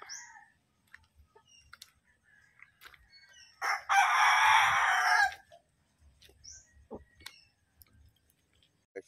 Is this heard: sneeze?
no